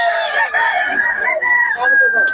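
A Kanawayon Hatch gamefowl rooster crows at a Bocaue market, one long drawn-out call close by with a sustained wavering pitch, with faint background voices around it.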